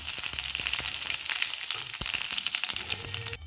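Curry leaves crackle and spit in plenty of hot oil in a pan, a dense close sizzle with sharp pops throughout, stopping abruptly at the end.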